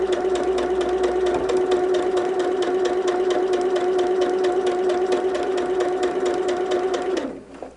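An electric sewing machine stitches a quilt block seam, holding a steady, loud mechanical whir with a rapid needle rhythm for about seven seconds, then stops abruptly near the end.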